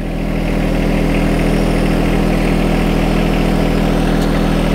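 A John Deere compact tractor engine idles steadily up close, a constant low rumble with mechanical clatter and no talking.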